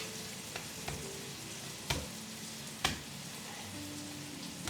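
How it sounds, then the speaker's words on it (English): Chicken frying in a hot pan gives a steady, gentle sizzle with occasional sharp pops and crackles, close up and alone without talk. "While the chicken is sizzling, we're going to be prepping some of the other ingredients."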